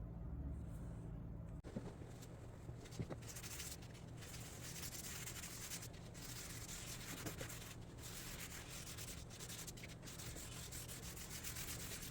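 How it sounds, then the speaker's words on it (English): Hand sanding of an ash wood Shaker table before finishing, a continuous scratchy rubbing of abrasive on wood in long strokes, close and steady with a few brief pauses. "You guessed it, time to sand. This time was the final time before finish."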